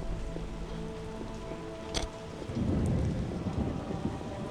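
Heavy rain hisses steadily in The Witcher video game while a sharp thunderclap cracks midway, followed by a deep, rolling rumble that swells and lingers under the downpour.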